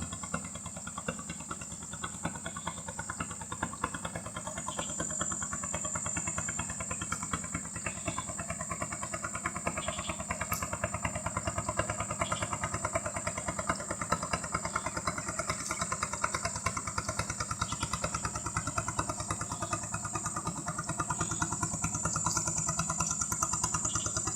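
A boat engine hauls illegally logged timber along a village river in Aceh Tamiang forest, a steady, near, unbroken motor drone with mechanical clatter running alone throughout.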